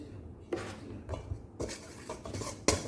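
Utensil stirring a paprika-seasoned fish mixture in a pan, several distinct scraping knocks of metal against the pan spaced irregularly over a few seconds, close and fairly soft.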